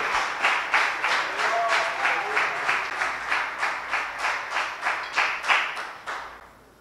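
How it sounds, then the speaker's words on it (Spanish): Congregation at a church service clapping loudly in a steady rhythmic beat, about two claps per second, each clap sharp and full, ending in a brief decay. "Alguien aplauda fuerte al Rey de Reyes y Señor de Señores."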